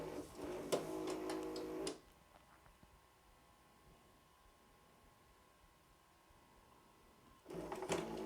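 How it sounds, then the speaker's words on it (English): A VCR with an anti-theft lock attached ejects slowly, with whirring mechanical ticking at the start, a long quiet motor hum in the middle, and another burst of clicking mechanism at the end, faint and close. "Let's hit eject. And this thing has a very slow eject."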